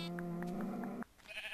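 A sheep in the video game Minecraft gives a single clear, wavering bleat lasting about a second, loud and close, followed by brief quiet game sounds.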